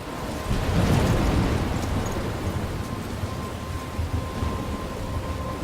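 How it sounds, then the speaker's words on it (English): Thunderstorm in the video game Life is Strange: a steady wash of rain and rumbling storm noise swells early, then holds at a fairly loud, even level with no talking. "I'm trapped in a storm?"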